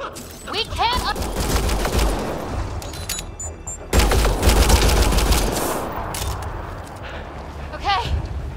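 Rapid gunfire bursts fill a firefight in the Mass Effect: Andromeda video game, loud and sustained with a sharp renewed volley midway, while voices shout over the shooting.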